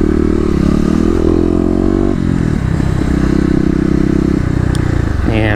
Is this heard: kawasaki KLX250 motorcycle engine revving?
yes